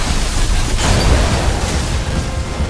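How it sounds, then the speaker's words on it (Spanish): Loud, dense explosion blast from the sci-fi shooter Alien Rage, a broad rumbling roar that fills the whole clip with no voices over it. "De hecho, casi la palmo yo con la explosión."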